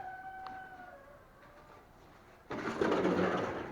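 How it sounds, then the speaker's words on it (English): Thin, high bird chirps and whistles sound faintly in the background over a low hum, before a loud broadband noise suddenly takes over. "You can hear the birds in the background."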